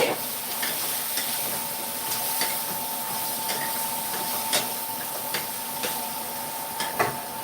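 Carrots going into a hot cooking pot for a rice and turkey-wing stew, a steady sizzle and frying crackle with soft stirring taps and clicks recurring throughout.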